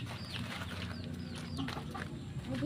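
Ducks in their pen give short, scattered calls and chirps over a steady farmyard background, heard at a moderate distance with no talking.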